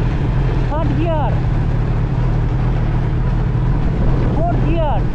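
A Kawasaki ZX-10R motorcycle engine drones steadily and loudly at close range, with a rider's voice speaking over the running engine.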